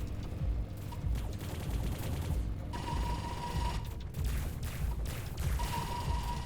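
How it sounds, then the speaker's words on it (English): Rockets fire at swarms of flying enemies in a fast-paced video game, a continuous loud clatter of rapid mechanical bursts with a thin high tone cutting in and out. "Let's just bomb them with rockets."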